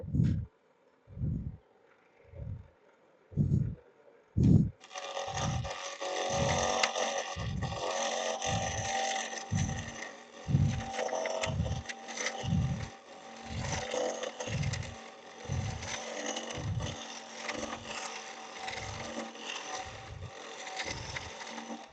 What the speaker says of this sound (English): I'm going to use this Jimmy Clues hollowing tool